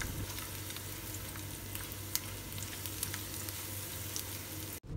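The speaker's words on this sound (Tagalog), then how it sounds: "So uno ko ang ginasa, syempre ang bawang na napakabango talaga" Garlic sautéing in oil, a quiet, even frying crackle with a low steady hum beneath and a few faint sharp pops, no voices.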